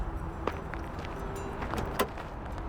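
A white car is unlocked and its door opened, heard from a played-back street clip as a couple of sharp clicks and a latch clunk over low outdoor background noise, with no speech.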